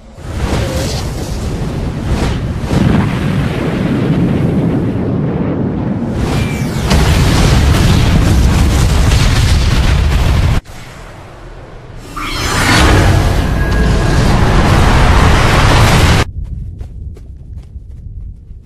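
Weapon fire and explosions in an Ultraman Cosmos versus Ultraman Justice battle, with loud sustained rumbling blasts and whooshes throughout, a sharp cut midway, then another swelling roar before fading to near silence.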